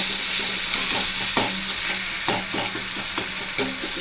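Tomatoes with salt fry in a pan for fish curry, giving a steady close sizzle broken by several scraping stirs of a spoon against the pan, no voices.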